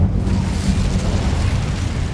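The Incendio fire spell cast in the Hogwarts Legacy video game makes a steady, loud, low whooshing roar of flame that fills the whole moment without clear breaks.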